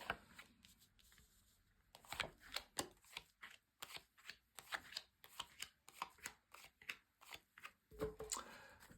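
Tarot cards are shuffled in close, quiet bursts of riffling and flicking, repeated rhythmically for several seconds after a softer start.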